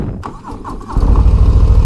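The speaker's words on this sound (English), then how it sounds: "Starts right up. Now this is a Milwaukee 8 engine, 117." A 2022 Harley-Davidson Low Rider S with a Milwaukee 8 117 engine cranks briefly and then catches, settling into a loud, close, deep rumbling idle.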